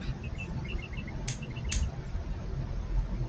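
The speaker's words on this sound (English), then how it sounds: "So I hear birds." Faint high chirps from birds outside repeat in short bursts over a steady low background hum, with two sharper calls in the middle.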